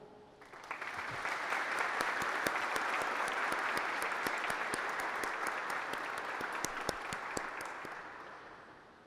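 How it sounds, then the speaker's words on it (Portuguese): A formal ceremonial session audience gives a sustained round of applause honoring two admirals, with many hands clapping evenly, swelling in quickly and holding steady for several seconds before tapering slightly near the end. "uma salva de palmas, tanto ao Sembra quanto ao Almirante Moura Neto."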